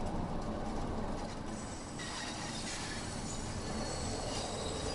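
London Underground Bakerloo Line train in Train Sim World 2, running with a continuous dense rumble and high metallic wheel screech, steady and close throughout.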